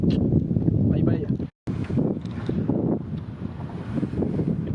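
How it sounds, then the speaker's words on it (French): Wind buffets a microphone on a lake while bass fishing at Orellana, a loud, continuous rumbling gust that drops out briefly and returns, with a voice speaking over it. "j'espère que le vent va continuer à forcir"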